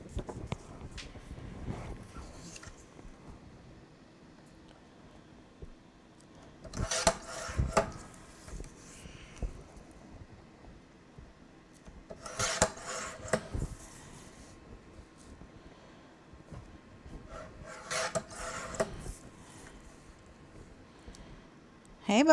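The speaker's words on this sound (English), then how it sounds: "So I'm going to cut it on my big trimmer." A big paper trimmer slices through paper in several separate crunching strokes, close by with quiet handling noises in between.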